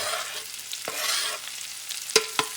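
Sliced mushrooms, garlic and onion sizzle steadily in a pan over medium-high heat, a continuous bright crackling hiss broken by a few soft stirring scrapes.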